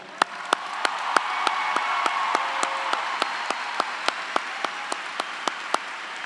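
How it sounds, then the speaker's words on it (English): Sustained applause from a high school graduation crowd honoring students enlisting in the military, with sharp individual claps standing out over the dense wash of clapping. "Please give them all a round of applause"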